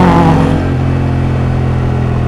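Africa Twin motorcycle engine running steadily while riding, a close, loud mid-pitched drone with a brief higher rev at the start that settles into an even hum, no talking.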